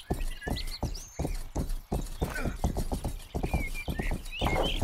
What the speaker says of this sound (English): now he decides to get on the horse